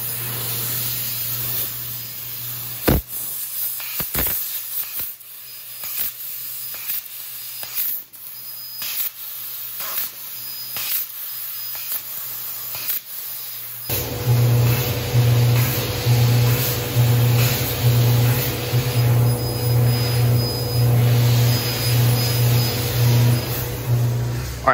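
A laser cutting machine running full production hisses with sharp bursts of gas, then settles into a louder steady roar with a pulsing hum for the rest of the stretch.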